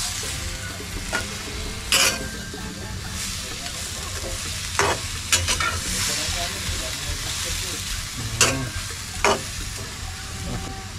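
A pot bubbles and sizzles steadily with a low, continuous boiling rumble, broken by a few sharp clinks and bursts of steam hiss.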